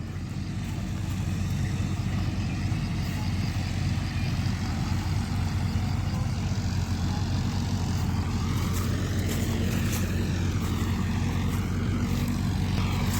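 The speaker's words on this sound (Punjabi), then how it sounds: "ਕੰਬਾਈਨ ਚੱਲ ਰਹੀ ਹੈ" A combine harvester runs and cuts crop in a field at harvest time, with a tractor nearby, giving a loud, steady engine drone that holds unbroken through the whole stretch with no talking.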